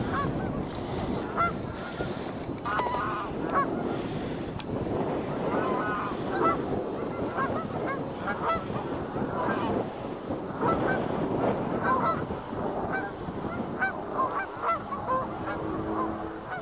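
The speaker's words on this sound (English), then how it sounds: "I think these are just all Canadian geese getting into a bit of a flap, some of them." A flock of Canada geese at Pitsford Water reservoir honking repeatedly and flapping, a busy overlapping chorus of nasal calls at moderate distance, steady throughout with no talk.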